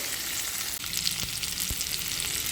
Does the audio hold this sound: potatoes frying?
yes